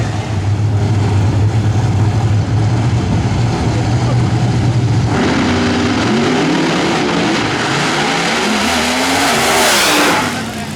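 Drag racing car engines roar and rev loudly, a low droning pitch giving way to rising, whining acceleration as cars pass close by.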